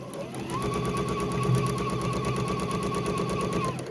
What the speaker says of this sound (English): We're going to stitch all the way across there.